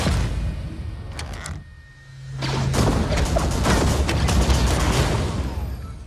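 Gunfire from a Rogue One film scene: a dense burst of loud shots and blasts that drops out briefly, then resumes as continuous chaotic firing with a low rumble beneath.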